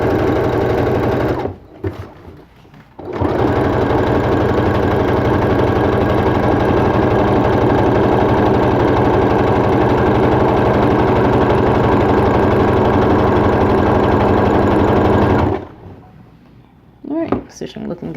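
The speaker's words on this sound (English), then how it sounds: "I'm going to continue sewing this" A sewing machine stitches applique onto a T-shirt in one long loud continuous whirring run, close up, with brief starts and stops at the beginning and end.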